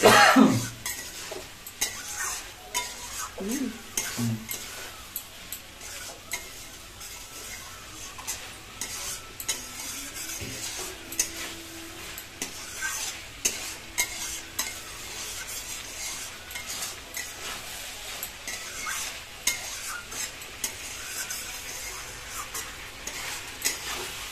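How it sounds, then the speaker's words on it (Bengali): A spoon stirs kohlrabi curry with rohu fish in a pan, giving a soft continuous sizzle broken by scraping and occasional clinks of utensil on metal, close and fairly quiet with no talking. "কষাতে কষাতে ওলকপি অনেকটা গুলে যাবে।"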